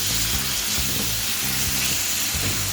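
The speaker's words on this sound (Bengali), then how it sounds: "আলু আর গাজরটাকেও কিন্তু আমরা খুব বেশি ভাজবো না" Potatoes and carrots frying lightly in a pan with a pinch of turmeric, a steady close sizzling hiss that runs unbroken throughout, with no voices.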